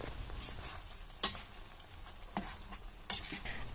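String beans and moringa leaves being stirred in a pan, with quiet scraping and a soft sizzle punctuated by a few sharper utensil knocks against the pan.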